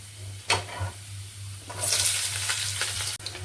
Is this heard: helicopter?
no